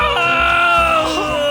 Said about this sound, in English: The brothers collapse and scream